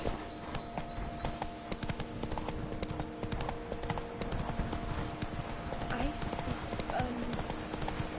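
Roach, a horse in the video game The Witcher 3, gallops with fast, steady rhythmic hoofbeats and a brief neigh, while a voice speaks over the hooves.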